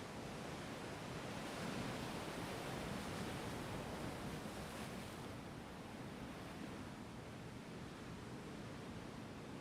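Steady ocean surf washing onto a beach, a continuous broadband rush that swells and eases slightly without pause, with no voices.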